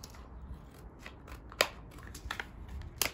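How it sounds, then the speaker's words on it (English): Scissors cut strips from a flat piece of plastic container, giving several close, crisp snips spaced out over a quiet background. "So now I just cut the strips in length."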